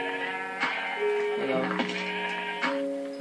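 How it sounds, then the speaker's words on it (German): Blocky sheep bleats from Minecraft, a few harmonic calls sounding close under a voice chatting casually in German throughout. "Ja, da habe ich schon mal einen Schaf."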